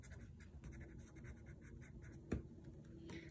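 A colored pencil shades an avocado drawing on paper, producing soft, rapid scratchy strokes in a steady rhythm, close and quiet, with one sharper tap partway through.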